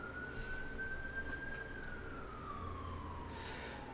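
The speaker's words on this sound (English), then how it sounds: "there's a siren going by." An emergency siren passes outside, one long rising then falling wail heard at a distance through a room over a steady background rumble.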